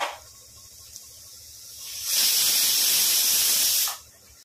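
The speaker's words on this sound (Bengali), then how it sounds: "প্রেসার কুকারে দেওয়ার পরে আমি 4টে সিটি মেরে নিয়েছিলাম।" Pressure cooker steaming while cooking mutton: a single loud hissing burst of steam lasting about two seconds, close by, rising sharply and cutting off, with quieter background before and after.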